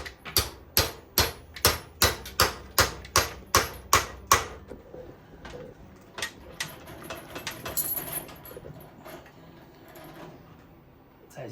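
Steel punch hammered through a hole in an old fence post for a hanging utensil rack, about a dozen sharp evenly spaced blows up close, then quieter scraping and fiddling as a bolt is tried in the widened hole.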